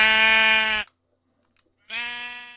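Two loud, harmonic sheep bleats from Minecraft, close and alone, each lasting under a second and split by a pause of silence.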